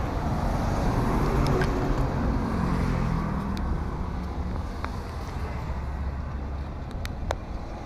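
Early-morning road traffic with cars and large trucks passing, a continuous broad rumble and wash of engine and tyre noise with wind buffeting the microphone, steady and fairly close, no clear talk.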